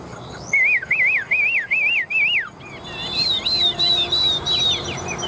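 A caged songbird sings close by in a run of rapid, looping whistled phrases, pausing briefly, then resuming with higher, sweeping notes.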